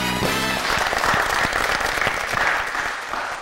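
A live audience applauds loudly and steadily at a comedy show, the clapping sustained and dense throughout with no one speaking over it.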